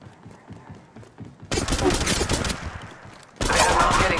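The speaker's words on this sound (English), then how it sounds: "They're shooting at me!" Bursts of rapid automatic gunfire erupt in Apex Legends Mobile, loud, dense and sustained, with a second heavy volley near the end over a noisy game mix.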